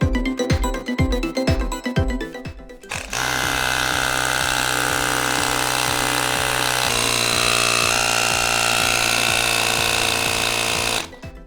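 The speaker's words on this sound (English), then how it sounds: "Now that we got the tire fully on the rim, let's go ahead and inflate it to 35 psi." An air pump inflates the rear inner tube of a Razor Rambler 12 with a loud, steady mechanical drone and rattle close up, preceded by several rhythmic pumping or tapping strokes.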